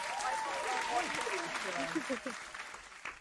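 Applause sound effect played during a live call-in sports show, a steady wash of clapping running under a host's talking voice for the whole stretch.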